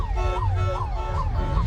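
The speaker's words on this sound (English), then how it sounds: "Setting alarms off." At an outdoor car show, a car alarm wails in rapid rising and falling sweeps, loud and continuous without a break.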